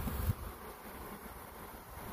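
Honey bees buzz steadily around a drawn-out frame in a two-frame mini nuc, a continuous close hum with a brief thump near the start and no talking.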